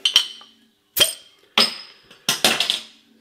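A bottle of Saltaire Breadwinner golden ale is opened and poured into a glass: four sharp glassy clinks ring out one after another, and the last runs into a short, busy rattle.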